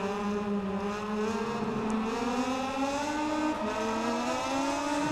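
A Moto2 motorcycle racing at the Qatar circuit in the MotoGP 19 video game, its engine screaming at high revs in a loud, steady whine that climbs as it shifts through gears.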